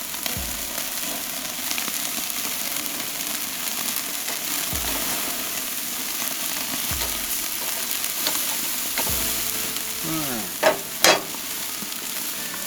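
Skirt steak sears over a wood-fired Santa Maria grill, a steady hissing sizzle that runs throughout, with a few soft knocks and a couple of sharp metallic clinks near the end.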